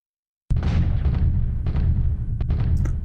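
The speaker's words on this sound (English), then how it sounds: "The second we move, battleships bombard." Heavy naval gunfire in a World War II strategy video game: battleships bombarding, opening with a sudden loud boom after brief silence, then a rumbling barrage of overlapping blasts and secondary bangs.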